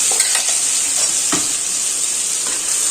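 Spice paste for bhungla bateta stirred and cooked in a pan over a low flame: a steady soft sizzle and hiss with a few brief spoon scrapes, close and continuous, no talking.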